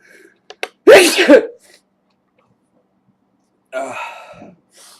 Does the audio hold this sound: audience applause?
no